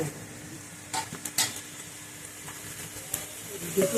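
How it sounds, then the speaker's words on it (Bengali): Sliced onions fry in mustard oil for birista, a soft continuous sizzle broken by a few sharp clatters of a spatula against the pan, close but fairly quiet. "এটা একটু লাল লাল করে ভাজতে হবে পাঁচ সাত মিনিট ভেজে নেওয়ার পর বেরেস্তাটা আমি এবার তুলে রাখবো"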